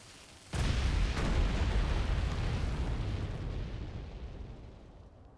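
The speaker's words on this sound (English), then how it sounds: "Here, take this feline barrel bomb." A feline barrel bomb detonates in Monster Hunter Stories 2: one sudden, loud blast followed by a long, heavy rumbling roar that slowly fades, with no voices.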